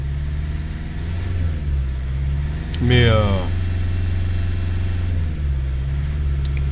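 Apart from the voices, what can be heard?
Chrysler PT Cruiser CRD engine running to warm up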